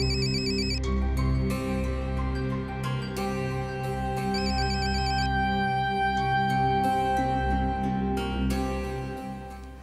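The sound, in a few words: telephone ringing with an incoming call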